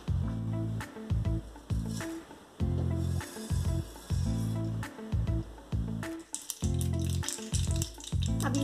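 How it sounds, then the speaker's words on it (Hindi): Mustard seeds and cumin crackle and sizzle in hot oil in a pan over a medium-low gas flame, a close, steady frying hiss broken by sharp popping bursts, with no voices. "अब हम इसमें डालेंगे 2 टेबलस्पून तेल, इसमें डालेंगे राई जीरा"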